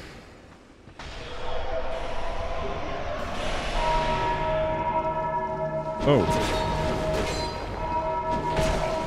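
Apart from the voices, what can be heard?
ringing bells in the video game Dark Souls 2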